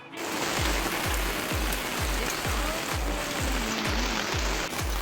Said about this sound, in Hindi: बारिश इतनी तेज़ शुरू हो गई